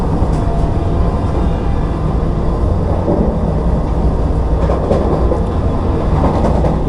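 A Vande Bharat express train runs out of Kozhikode in Kerala, a loud continuous rumble of wheels on rails heard from on board, steady throughout with faint rhythmic clicks.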